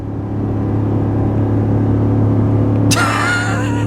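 Ford F-150 with the 5.0L Coyote V8, in third gear and pulling a heavy trailer up a 6% grade, gives off a steady low engine drone and road rumble, and a brighter whine and rattle join in near the end.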